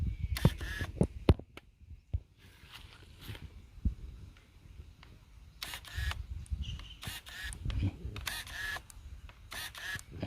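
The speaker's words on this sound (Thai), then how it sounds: "นี่เสียงโฟกัสแหละ" Faint whirring and clicking bursts from the autofocus motor of a Tamron 10-24mm f/3.5-4.5 lens, repeated several times against quiet handling noise.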